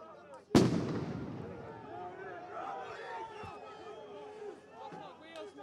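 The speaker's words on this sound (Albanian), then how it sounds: "protestuesit janë duke hedhur flakadan, po ashtu edhe fishek zjarre" At a street protest, a firework thrown toward the prime minister's office goes off with one sharp, loud bang. Crowd noise and talking follow it.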